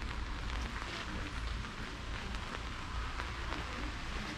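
Rain falls steadily on a rainy day at a hydrangea park, a soft continuous patter and hiss that stays even and fairly quiet, with no one talking.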